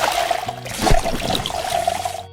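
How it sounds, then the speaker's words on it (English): Steady gushing water from a pump runs continuously, close and fairly loud, with a low mechanical hum and splashing as a toy pool fills. "Let's fill up the pool with water."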